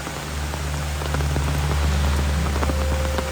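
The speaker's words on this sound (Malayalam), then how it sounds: "നല്ല അടിപൊളി മഴയാണ് കേട്ടോ" Heavy monsoon rain in Mannarkkad, Kerala pours steadily, a dense hiss of drops hitting surfaces with a low hum running beneath it.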